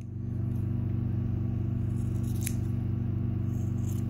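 Close, steady buzzing while trimming the hair on a schnauzer's ear during a poodle-style cut, holding a constant even drone throughout with one brief sharp tick near the middle.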